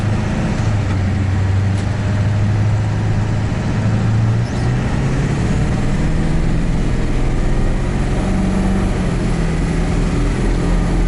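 A 7.3 Powerstroke diesel pickup on 24-inch wheels with a new tuner accelerates at half throttle, its steady loud low engine drone and rising hum filling the cab continuously without talk.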